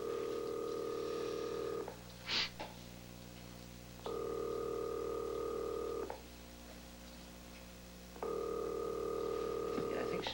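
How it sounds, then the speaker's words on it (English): A telephone rings unanswered, three long steady ring tones separated by pauses, with a brief click or tone between the first two, on a 1983 TV soap scene. "There's no answer. I mean, I wonder why Maggie isn't picking up the phone"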